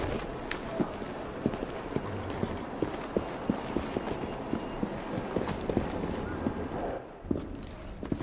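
Steady clip-clop of horse hooves drawing a carriage through Victorian streets in Assassin's Creed Syndicate, a brisk even rhythm running throughout with a constant rumble of wheels and street ambience.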